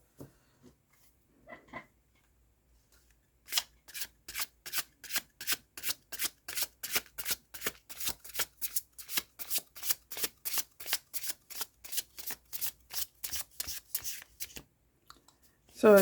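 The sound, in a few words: shuffling tarot cards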